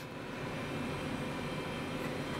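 A steady low mechanical hum and whir of an old Packard Bell PB4225CD desktop computer running, constant and fairly quiet with no voices.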